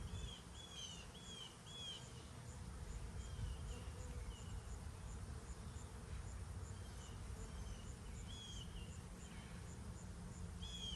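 Honeybees buzz around an open hive, a steady continuous drone of many insects close by with faint bird chirps scattered above it, no voices.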